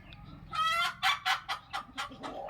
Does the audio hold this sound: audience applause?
no